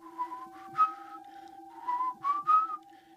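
A storyteller imitates an eerie whistling heard in the Appalachian mountains in the middle of the night, a wavering, tuneful whistle in several rising and falling phrases, fairly close and alone with no talk.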